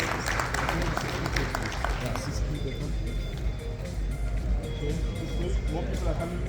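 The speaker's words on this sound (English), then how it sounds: "Let's give them a warm round of applause, please," An audience in a meeting room at a large Transnet corporate event applauds, with a burst of clapping that fades under ongoing talk and room noise.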